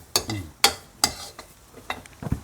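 Chillies and shallots dry-roasting in a pan give sharp scraping and tapping strokes, about five or six irregular hits of a utensil against the pan, close and alone.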